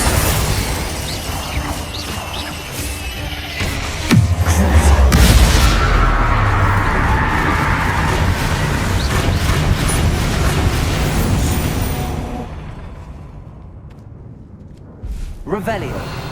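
Casting the Confringo spell in Hogwarts Legacy sets off a deep, loud blast that rumbles and rolls on for several seconds and then fades to a hush, followed by a second, smaller impact at the end, with game voices heard throughout.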